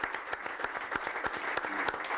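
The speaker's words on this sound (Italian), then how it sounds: "C'è un applauso a Bellodi perché" A crowd applauds a Mantova football goalkeeper after the Mantova - Caratese match. The clapping is soft and fairly distant, a dense, steady patter of many hands lasting about two seconds.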